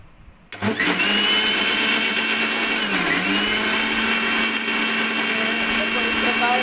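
An electric blender kicks on abruptly after a brief quiet start, churning cream with cold water from a clay pot to make butter, then runs with a loud steady whine and a slight pitch dip midway.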